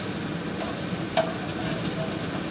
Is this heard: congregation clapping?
no